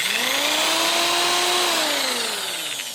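Cheap $20 Hyper Tough corded drill from Walmart running alone at close range, a steady whining motor hum that rises slightly in pitch, holds, then winds gradually lower as the speed drops.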